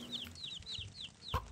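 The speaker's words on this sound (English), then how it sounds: "That chicken's attacking me!" A chicken in a Shrek video game on Xbox clucks in a quick run of four or five sharp, high calls, close and clear, ending with a short thump.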